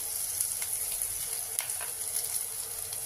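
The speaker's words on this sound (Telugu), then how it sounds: "ఆనియన్ వేగిందండి, కర్రీ లీఫ్ వేస్తున్నానండి" Curry leaves tossed into onions already frying to brown in a pan, a steady close sizzle and crackle with a few sharper pops, continuous for about three seconds with no voices.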